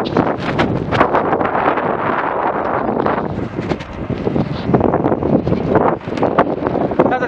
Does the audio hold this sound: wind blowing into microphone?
yes